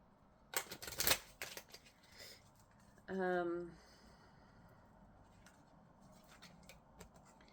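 A deck of gratitude cards is shuffled in a quick flurry of crisp riffling near the start. A short tonal burst follows, then quiet, faint handling of the cards.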